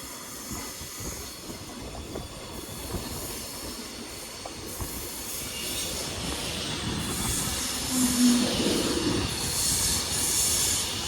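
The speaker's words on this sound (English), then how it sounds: "And this Pendolino is Finley's Valentine 390001." A Pendolino electric train, unit 390001, pulls in at London Euston with a steady rolling rumble and hiss, and its wheels squeal faintly as it slows.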